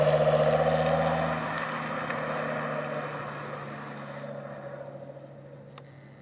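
An Audi RS6 V10 pulling away from the Magny-Cours circuit, its engine droning loud at first then fading steadily into the distance over several seconds.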